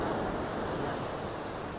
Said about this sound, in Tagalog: Yan, hinampas-ampas ng dagat.